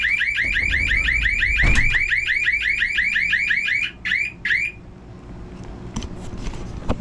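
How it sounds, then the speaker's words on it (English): A loud boat security alarm warbles in rapid repeating electronic chirps for several seconds, then gives a few short bursts and falls silent, leaving quiet background noise. "Take 2 on testing the alarm"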